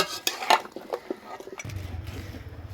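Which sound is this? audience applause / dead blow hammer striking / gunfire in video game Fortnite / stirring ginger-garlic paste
stirring ginger-garlic paste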